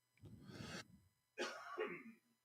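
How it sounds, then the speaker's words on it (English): Two harsh coughing bursts close to the microphone, separated by a brief pause, with no talking. "Excuse me for the coughing."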